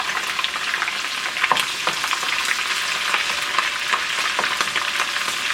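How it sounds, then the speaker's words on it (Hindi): Steady, loud sizzling of green chilies frying in hot oil, with crackling pops scattered throughout and no talking. "थोड़ा सा फ्राई कर लें। इसमें जाएंगी हरी मिर्चें,"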